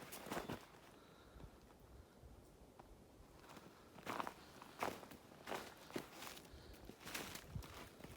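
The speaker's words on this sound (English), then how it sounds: "Other than my loud footsteps." Footsteps crunch along a winter hiking trail on the Appalachian Trail in January, an uneven series of close, soft steps that grow louder and heavier partway through, with no talking.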